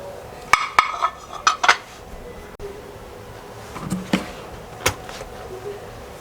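Milk powder drop scones are set onto a plate with several sharp clinks and clatters of utensils against crockery, clustered early and scattered later over quiet kitchen background.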